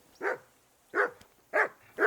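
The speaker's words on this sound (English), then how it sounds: "Henry, whistle at that mutt of yours to stop barking." A dog barks in Kingdom Come: Deliverance 2, four loud, evenly spaced barks close by with brief silences between them and no talking.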